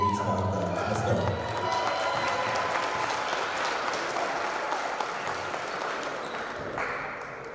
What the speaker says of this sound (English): one last round of applause for our senior